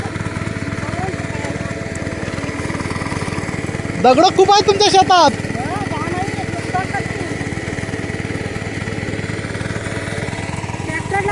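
A power tiller's engine chugs steadily in a muddy paddy field with stones, a continuous mid-pitched motor drone heard close throughout while people talk over it briefly.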